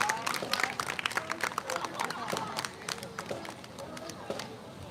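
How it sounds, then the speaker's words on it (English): A street crowd applauds a high school Navy Junior ROTC unit marching in the annual Strawberry Festival parade in Garden Grove. Scattered claps and sharp hand hits rise and fall at moderate distance under crowd chatter and voices. "A round of applause for Pacifica High School Navy Junior ROTC program."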